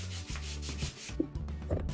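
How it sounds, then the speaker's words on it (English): Rough rubbing across painted wood furniture to distress it back toward dark wood, a close, continuous abrasive scrubbing with a brief pause in the middle. "we are just going to work the whole piece and give it a really rough distress"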